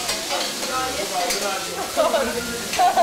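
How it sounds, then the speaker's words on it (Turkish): Food is stirred in a pan on a stovetop with a soft scraping swish over a faint steady sizzle, with brief bird-like chirps in the background. "Evet, karıştırıyoruz."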